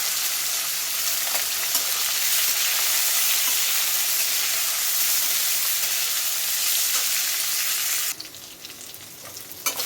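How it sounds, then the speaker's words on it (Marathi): Bitter gourd slices frying in oil over low heat in a pan, giving a loud, dense, continuous sizzle that runs unbroken for about eight seconds, then drops abruptly to a quieter crackle with a couple of light knocks at the end. "त्याच्यात आपण हे जे काप केले कारल्याचे ते टाकायचे आणि चांगले फ्राय करून घ्यायचे"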